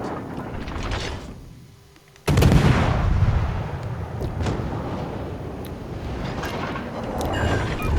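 Naval gunfire from the Clemson destroyer in World of Warships: a heavy booming salvo cuts in suddenly after a quieter stretch, followed by sustained rumbling battle noise with scattered sharper reports.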